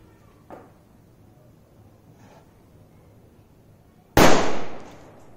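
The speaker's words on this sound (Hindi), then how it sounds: "अंदर कुछ इस प्रकार के बुलेट क्रैकर्स है बड़े साइज के, ज़ोरदार आवाज़ करेंगे।" A large bullet-type Diwali firecracker goes off in a single loud, sharp blast near the end, ringing briefly after, preceded by a couple of faint small clicks and quiet background.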